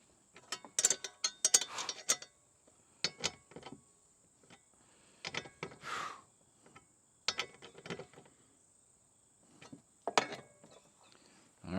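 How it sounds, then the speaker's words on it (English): Bolts being tightened on kayak landing gear with a ratchet, irregular bursts of rapid clicking separated by quiet gaps, close by over a faint high steady whine, no talking. "I'm going to go ahead and tighten these bolts."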